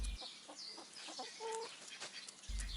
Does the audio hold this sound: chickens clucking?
yes